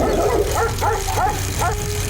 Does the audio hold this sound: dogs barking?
yes